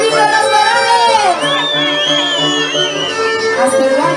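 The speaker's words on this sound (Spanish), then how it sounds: "Y si mandan los varones, un silbido a los varones." A birthday party crowd in Peru whistles and cheers loudly on cue from a singer, with long shrill rising whistles sweeping over a dense wash of shouting voices, sustained and close for several seconds.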